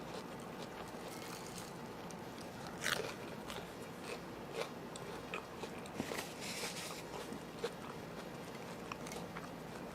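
Toasted sourdough bread dipped in olive oil and rosemary is bitten, giving a few quiet, close crunches and crackles over a low steady background hiss.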